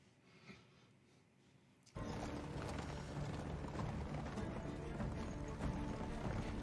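Armoured horses clip-clop in a steady, busy rhythm of hooves with jingling tack, starting abruptly after a quiet moment and continuing loudly.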